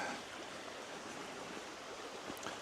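A small waterfall spills into a creek near a secluded campsite, making a steady, even rush of broadband water noise that fills the whole clip with no voices.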